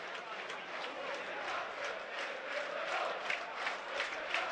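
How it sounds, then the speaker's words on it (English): Burnley supporters at a Premier League match against Southampton make a steady, distant stadium roar with rhythmic surges that sound like chanting, faint and continuous throughout. "Plenty of noise from the Burnley crowd."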